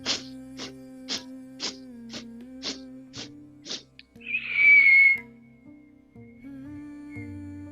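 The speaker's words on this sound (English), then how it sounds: "the breath is inhaling in 8 strokes and through the nose, and exhaling out the mouth with a long whistle" A breathing exercise: eight short, rhythmic inhaling strokes through the nose, then a long, loud whistling exhale through the mouth, close to the listener, fading into quiet.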